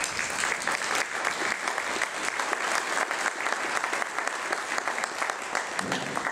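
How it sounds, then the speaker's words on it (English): An audience at a Santa Fe education forum claps in sustained, steady applause, a dense crackle of many hands that continues at an even level throughout without talk. "Can we give another round of applause to the Interfaith Coalition?"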